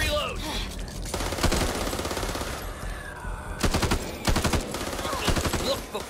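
Gunfire in Back 4 Blood, with rapid automatic bursts rattling loudly and close, broken by short pauses, over game ambience with voices speaking at times.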